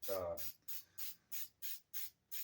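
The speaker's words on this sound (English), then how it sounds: "you want to make sure you're spraying in multiple ways to get into all of the crevices" Spray paint hisses onto a foam sword in a run of short bursts. One longer spray opens, then about seven quick, evenly spaced puffs follow, close and fairly quiet.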